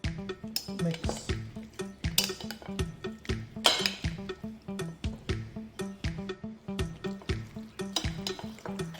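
Paprika, seasoning and flour being mixed in a bowl: a rapid, regular series of close clinks and scrapes of a utensil against the dish, with a faint sizzle underneath.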